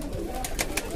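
A pigeon, sitting in a weakened state during summer heat, gives a short, soft cooing call up close that lasts about a second, over light background noise.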